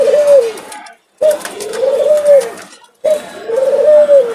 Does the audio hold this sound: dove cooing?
yes